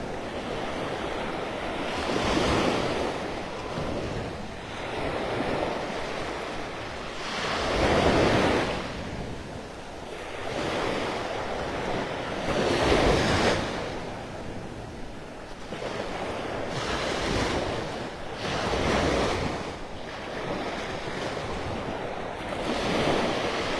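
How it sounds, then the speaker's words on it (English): Rough ocean surf breaks on the beach at Delnor-Wiggins in North Naples at sunset, with waves swelling and crashing every few seconds over constant wind and microphone buffeting. "Surf's a lot rougher than it was this morning here."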